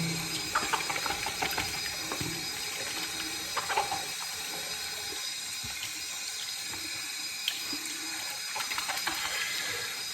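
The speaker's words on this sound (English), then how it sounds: "Right, rinse the brush." Tap water running steadily into a sink while a shaving brush is rinsed, a continuous close hiss with faint clinks and splashes.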